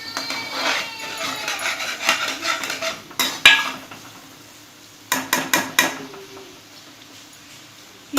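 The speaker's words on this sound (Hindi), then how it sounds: "ये उसी ऑयल में हमारे प्याज फ्राई हो रहे हैं।" Onions frying in oil for chicken bukhara, with a soft sizzle under scattered close scraping and stirring clatters of a utensil against the pan, several sharp knocks midway, then quieter sizzling.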